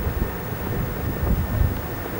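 Outdoors by a greenhouse, a gusty wind rumbles and buffets steadily against the microphone over about two seconds, with no voices.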